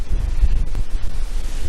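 Blustery wind buffeting the microphone outdoors at a plant nursery, loud low rumbling gusts rising and falling throughout with no talk.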